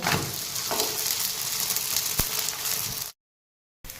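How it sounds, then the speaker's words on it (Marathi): An egg paratha sizzles steadily in a hot pan just after being flipped, a dense continuous crackle close by with one sharp pop, before cutting to brief silence and resuming. "तर आता आपण पराठा हा पलटी करूया आणि दोन्ही बाजूने छान असा खरपूस भाजून घेऊया"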